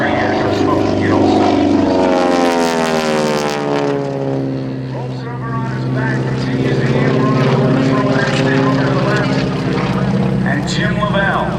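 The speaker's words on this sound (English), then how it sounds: "Coming over your right shoulder now, the T-6 Texan." A T-6 Texan propeller aircraft flies over at the 2012 Cleveland National Air Show trailing smoke, its loud radial engine drone sweeping past with a strong Doppler pitch drop, then lingering as it moves away.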